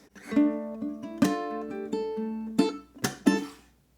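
A ukulele plays a short phrase from the verse of a song, a few strummed and plucked notes ringing out close and clear, then fading to silence.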